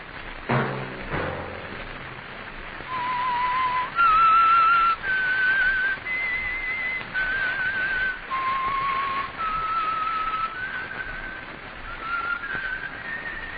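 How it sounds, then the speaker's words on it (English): Someone whistles the eerie theme tune of The Whistler old-time radio mystery program, a slow sequence of clear sustained notes rising and falling, alone over a soft background hiss. "Let that whistle be your signal for the Signal Oil program, The Whistler"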